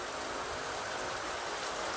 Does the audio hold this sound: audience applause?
no